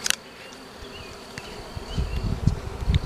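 A swarm of honey bees buzzes around an arborvitae, with individual bees droning past close by over a steady hum that grows louder and more active toward the end.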